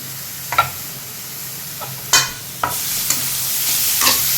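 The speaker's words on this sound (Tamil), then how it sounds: "இந்த வெங்காயத்தோடு நல்லா கலந்து விட்டுக்கோங்க." Carrots and onions sautéing in a new clay pot make a close, hissing sizzle, broken by several scraping stirs and a few louder spoon scrapes against the pot.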